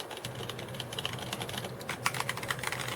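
Rapid typing on a Logitech K120 rubber dome keyboard: soft, muffled key presses in a quick, uneven run at close range, with no talking.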